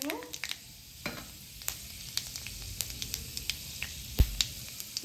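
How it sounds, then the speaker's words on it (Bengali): Panch phoron spices crackle and sizzle in hot oil, a steady frying hiss dotted with sharp little pops and a louder spit near the end, close up with no talking. "এবার এই তেলেতে আমি ফোড়নে দেবো 5 ফোড়ন।"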